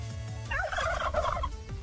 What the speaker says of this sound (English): They actually gobble. And you can hear them gobbling.